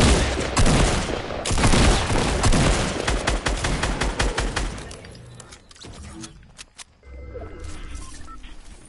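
Rapid, dense gunfire rattles in a video game, loud bursts overlapping for several seconds before thinning into scattered single shots and quieter background noise, with a shotgun among the weapons.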